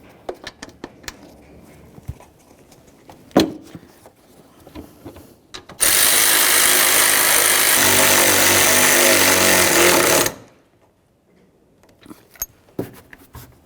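Power tool driving the top mounting bolts on a 1999–2006 Chevrolet Silverado 1500 during a power steering pump pulley job, a loud steady whir for about four seconds between scattered clicks and metallic taps.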